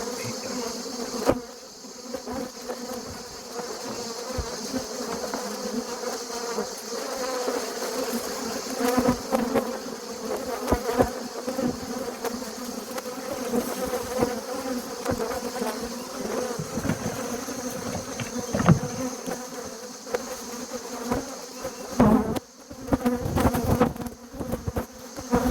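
Dense swarm of bees buzzing steadily and close as they are shaken off hive frames in an apiary, a continuous layered drone with occasional louder passes, no voices.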